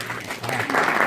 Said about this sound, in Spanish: No hace falta que aplaudáis.